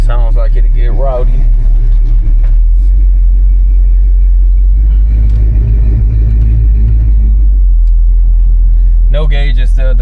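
A 1970 Oldsmobile Cutlass 442 V8 idles with a loud, steady low-pitched rumble throughout, while people talk over it at the start and near the end.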